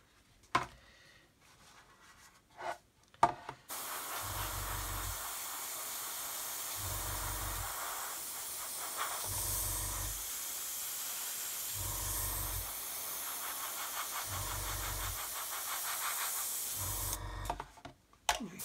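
Paint spraying on a car build, a continuous close hiss from a spray gun held for long steady passes with a rhythmic pulsing underneath, starting after a few seconds of handling noise and ending abruptly.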